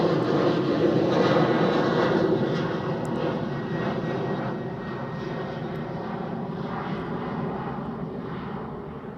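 A KLM jet airliner at Manchester Airport rumbles steadily in the distance, a broad continuous engine roar that slowly fades as it moves away.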